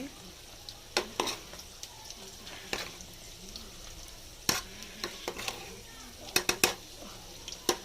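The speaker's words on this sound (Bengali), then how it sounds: "সব সমস্ত সবজিগুলোর মধ্যে ঢেলে দেওয়া হয়েছে একটু মিক্সড করে" Fried vegetables are stirred and mixed in a pan, giving a steady low sizzle with scattered scraping clatters of the spoon against the pan, close and moderately loud.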